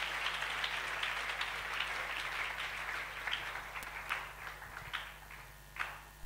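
A church congregation applauding, steady scattered clapping that thins toward the end into a few separate claps over a low background hum.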